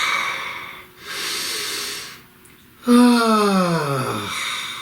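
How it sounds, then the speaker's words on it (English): A deep breath in, then a hushed pause, then a long voiced exhale that slides downward, loud and close with no speech. "Please take a nice deep breath"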